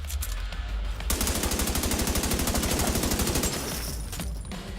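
Rapid automatic gunfire from The Division 2, aimed at an elite enemy, rattles in a steady fast burst that runs loud and close for about two and a half seconds before cutting off.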